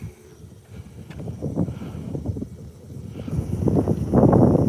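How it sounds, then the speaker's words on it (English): Strong wind roars and buffets the microphone in low rumbling gusts, building louder toward the end, with no talking. "the wind is blowing in here, making a sound like a horn"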